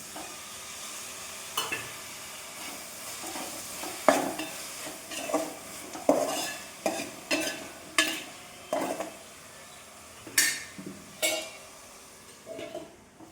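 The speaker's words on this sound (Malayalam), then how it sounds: "ഉള്ളി വാടിയിലോട്ട് കുറച്ച് തക്കാളി അരിഞ്ഞത് ഇട്ട് കൊടുക്കാം." Chopped tomatoes and softened onions fry in a pan for chicken curry, a soft sizzle beneath rhythmic spoon strokes that clink and scrape against the pan every second or so, close up and without talk.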